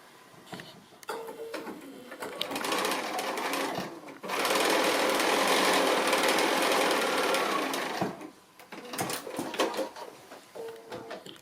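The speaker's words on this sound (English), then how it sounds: "We just want to place that onto one corner of the larger square and stitch that across." A sewing machine stitching across fabric squares for a pincushion, whirring in two sustained runs with a short stop between, plus lighter clicks and handling noises before and after.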